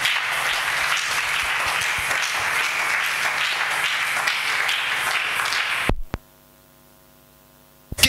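A church congregation applauds as a sustained wash of many hands clapping over a steady electrical hum, then cuts abruptly to near silence with only the hum remaining, with a brief burst at the end.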